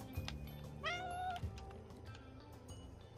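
Cat in Animal Shelter Simulator lets out a single clear, rising meow near the middle, quiet against a low background hum, with no one speaking.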